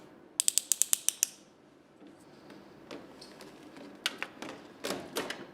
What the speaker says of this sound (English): The reservoir drain line, which is the short leg with the blue cap, is clamped using the Roberts clamp built into the tubing.